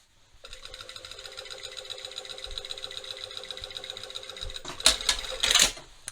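A sewing machine stitches the two front panels of a pair of jeans together, running in a steady, even whir that is joined by a few louder mechanical clacks near the end.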